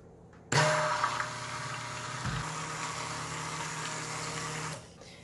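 Oils and lye water being mixed for cold process soap make a steady, close whirring motor drone that starts abruptly, holds for about four seconds, then cuts off.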